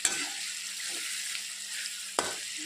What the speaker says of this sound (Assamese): এয়া মই এতিয়া এনেদৰে গোটেইখিনি মিলাই লওঁ।